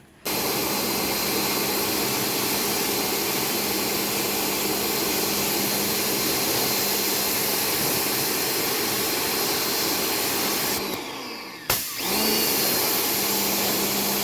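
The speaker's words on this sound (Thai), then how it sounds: "แผงแอร์ของรถเชฟนะคะเดี๋ยวเราจะฉีดล้างทำความสะอาดแล้วก็ นำไปเช็ครั่วนะคะ" A high-pressure sprayer roars steadily for about eleven seconds, loud and close, while washing the air conditioner unit of a diesel Chevrolet Captiva. It cuts out briefly, then starts again.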